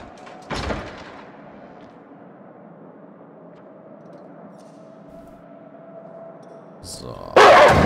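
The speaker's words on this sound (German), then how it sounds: "Und jetzt haben wir die Sicherheitskarte und können hier durch die Tür" In Until Dawn, a security keycard opens a door: a sharp click, then a low steady hum, and finally a loud mechanical door burst at the end, with someone talking in between.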